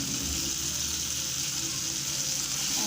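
Tamarind pieces sauté in a pan with a continuous, even sizzle, close and moderately loud with no talking.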